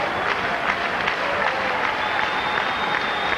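Baseball fans in a ballpark clap and cheer, a broad wash of applause from a big crowd at a distance, holding steady for a few seconds.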